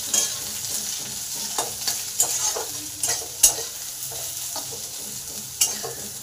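Chopped onion frying in hot oil in a pan after the garlic, giving a steady close sizzle broken by repeated sharp scrapes and stirs of the spatula.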